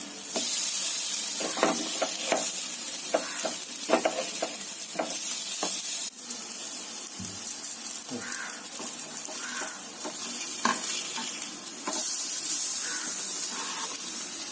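Brinjal slices fry in a pan for a fish-style brinjal fry, a continuous bright sizzle with repeated scraping and clatter as the pieces are turned, one firmer knock midway, close and unvoiced.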